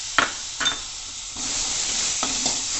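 Grated tomato and masala being fried and stirred in a pan, a continuous soft sizzle broken by a few sharp scraping strokes of a spoon, close and with no voices.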